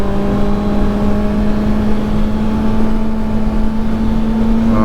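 A Kawasaki Ninja ZX-6R motorcycle engine holds a steady, loud droning hum under way on a test ride, with a constant tone and a slight rise in pitch near the end, no voices.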